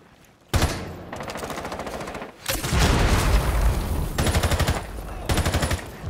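Rapid automatic gunfire from a Rainbow Six match comes in several sustained bursts with brief gaps between them. The shots are loud and close, each burst a dense rattling stream, and no one speaks.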